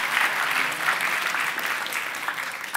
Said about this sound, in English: Can you give Andy a big round of applause for helping me with that demo?